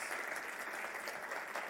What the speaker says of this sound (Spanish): Solamente queda que le demos un gran aplauso a nuestro invitado.